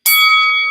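A single bright notification bell dings once and rings out, its clear metallic tone sustaining loud and close before it fades, with no voices.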